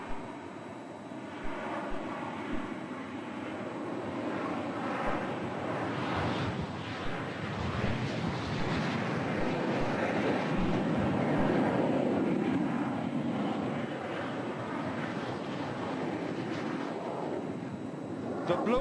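Classic de Havilland Vampire and Venom jets in a formation flight at the Farnborough International air show, a sustained broad jet roar that swells and fades slightly, loud and continuous throughout.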